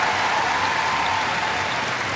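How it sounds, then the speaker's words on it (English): A netball crowd at the World Cup match between New Zealand and Singapore cheers and applauds a Singapore goal, a dense, loud, continuous roar of clapping filling the arena. "Big cheer as Singapore gets goal number 5."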